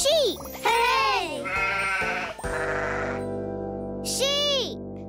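Sheep bleating in a children's programme, with several drawn-out, wavering bleats close by. Voices are mixed in among them and may be imitating the animal.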